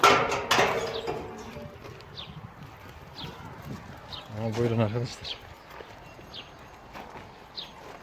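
Small hooves patter in quick, scattered steps as sheep trot past into a pen, with a voice speaking briefly near the start and livestock and Kangal dogs nearby.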